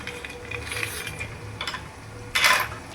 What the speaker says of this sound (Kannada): ಇವೆಲ್ಲ ಚೆನ್ನಾಗಿ ಫ್ರೈ ಮಾಡ್ಕೊಂಬಿಡೋಣ. ಸಿಮ್ಮಲ್ಲಿ ಇಟ್ಕೊಂಡು ಫ್ರೈ ಮಾಡ್ಕೊಳ್ಳೋಣ